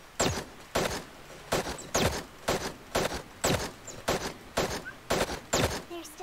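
Evenly spaced gunshots in Super Mecha Champions, a mobile battle royale, repeat about every half second as a steady series of sharp cracks, each with a brief decay.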